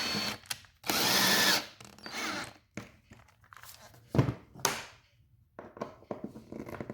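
Power drill driving a screw into a wooden welding fixture for gothic ironwork, a loud close whir at the start, then shorter bursts, clunks and ratcheting clicks with quiet gaps.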